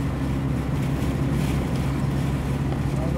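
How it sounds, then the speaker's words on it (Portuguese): Strong wind near the beach at Aquiraz, Ceará, along the CE-040 road: a constant, loud roar and buffeting with no breaks across the whole stretch. "Porque aqui é como é próximo de praia, tem uma ventania terrível."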